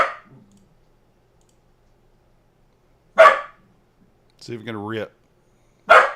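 A dog barks twice in sharp single yelps, spaced a few seconds apart over near silence, with a man's brief speech between them.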